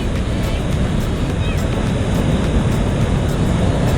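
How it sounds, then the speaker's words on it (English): Ocean waves washing in at Laguna Beach tide pools, a steady broadband roar of surf close by, with a voice talking over the water. "so you can see these waves coming in"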